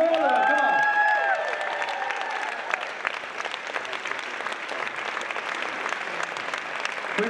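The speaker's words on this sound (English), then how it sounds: "Big round of applause." Applause and cheering from the audience at a singing competition final as the finalists come up, opening with high whoops and shouts over clapping, then settling into steady sustained clapping.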